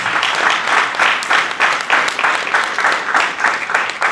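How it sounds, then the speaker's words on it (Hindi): A seminar audience claps loudly for their leader, dense rapid applause in steady waves that swell and dip throughout, close and full, with no talking over it. "इनके लिए जोरदार ताली हो जाए"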